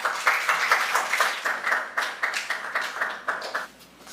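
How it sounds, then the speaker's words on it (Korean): Church congregation applauding to welcome a visiting missionary and his wife, steady clapping from many hands throughout, fairly close and moderately loud, thinning and fading near the end. "우리 목사님 나오실 때 할렐루야 하는 마음으로 박수로 환영해 주시겠습니다"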